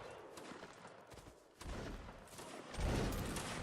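Musket volleys crack out in a Napoleonic Wars video game battle, two broad bursts of massed gunfire, the second louder, against faint background noise.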